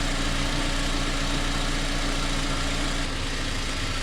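A 2004 Honda Civic EM2 with a D17 engine idles steadily after a timing belt and water pump replacement, a continuous close, even hum with a faint low pulse and no talking.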